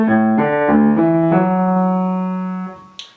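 A Telemann Minuet played on piano, first four measures: a short run of clear notes with soft attacks, then a long sustained chord ringing out and fading, closing with a faint click.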